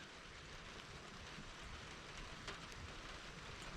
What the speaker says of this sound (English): Nice morning just to sit out in the drizzle rain and enjoy it.